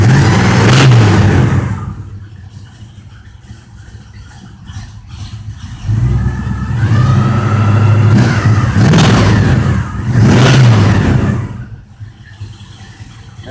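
Loud, close rumble of a 1976 Trans Am with a built .030-over 455 V8 and Summit 2 1/2-inch exhaust, lopey cammed idle broken by several throaty revs.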